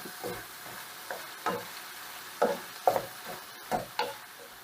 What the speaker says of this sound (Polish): I podsmażamy.